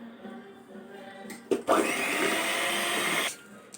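Electric mixer beating cake batter with egg yolk added for a car-shaped cake, a loud steady whir that kicks in after a couple of seconds, runs continuously for about two seconds, then cuts off.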